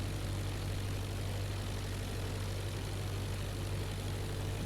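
Droning WWI propeller aircraft engine in the IL-2 Flying Circus flight simulator during a crosswind landing approach, a steady low hum at modest volume with no talk.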